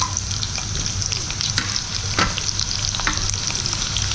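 Chillies are tempered in hot oil for a yogurt-based moru curry, giving a dense, close crackle and sizzle, with a few sharp pops and scrapes of stirring over the short stretch.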